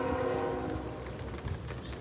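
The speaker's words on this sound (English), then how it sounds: "I hear that train a coming." A train passes in the Missouri mountains, its horn sounding a sustained chord at the start over a continuous rolling rumble, fairly loud and with no talk.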